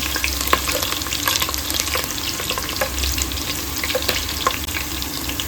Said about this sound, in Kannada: ಸಾಸಿವೆ ಚಿಟಪಟ ಅನ್ನುವಾಗ 1 ಈರುಳ್ಳಿನ ಕಟ್ ಮಾಡಿ ಸೇರಿಸ್ಕೊಳ್ಳೋಣ. ಈರುಳ್ಳಿನ ತುಂಬ ಫ್ರೈ ಮಾಡ್ಕೊಳ್ಬೇಕು.